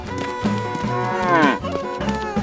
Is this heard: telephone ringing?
no